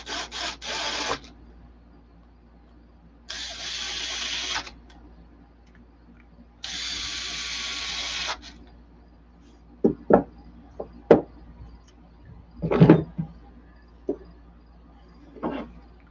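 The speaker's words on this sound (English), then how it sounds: "Giving it a good snug with the T-handle." A T-handle wrench snugs a fitting while the center differential of an 8S Outcast RC truck is being plugged, heard as three short scraping ratchet runs followed by a scatter of quiet clicks and taps, close and with no talking.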